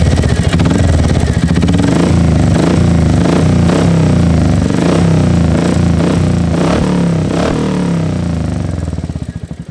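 A Royal Enfield Hunter 350 motorcycle with an aftermarket matte black exhaust revs loudly and close, the thumping single-cylinder engine rising and falling through repeated throttle blips over a continuous rumble.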